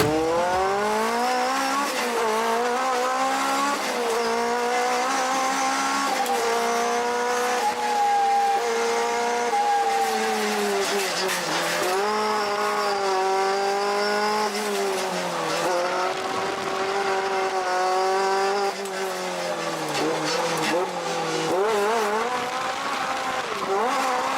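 A 100-something-horsepower Toyota AE86 races along a touge mountain road, its engine wailing continuously at high revs with rising and falling pitch through gear changes and corners, loud and close, with tire squeal.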